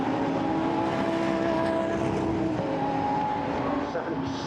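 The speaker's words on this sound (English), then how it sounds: "Everybody accelerates off down towards Copse Corner." Lamborghini Super Trofeo race cars pull away together at the start of a race at Silverstone, a loud, dense engine roar climbing in pitch and then shifting gear, heard under a commentator's voice.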